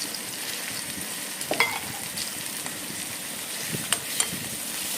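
Chillies fry in a pan on a low gas flame while being stirred, a steady soft sizzle with a few scattered scrapes and light clinks of the spoon against the pan.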